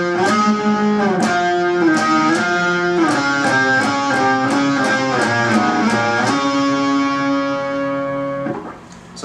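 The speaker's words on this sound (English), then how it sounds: "The third part is played while the second part is playing, just on a different guitar, and it sounds like this." An octave guitar part on a second guitar rings out in a steady run of plucked notes stepping through pitches in an even rhythm, each attack clear and sustained, then fading out alone.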